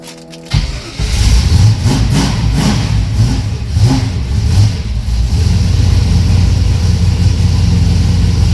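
A cold 1982 Pontiac Trans Am with Crossfire Injection, parked for 30 years, cranks briefly and catches, then settles into a loud, rough, lumpy idle with a few blips of revving, close by.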